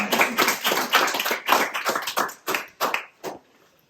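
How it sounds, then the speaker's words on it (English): Wedding ceremony guests clap in a short round of applause, a run of close, distinct claps that thins out into a few scattered final claps before stopping. "Another round of applause."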